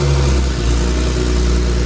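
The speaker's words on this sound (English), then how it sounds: "they're gonna start up this Porsche Turbo that they just built an exhaust for" Porsche 997 Turbo with a custom-built exhaust running loud and close, a steady deep engine rumble with slight revving throughout and no talk.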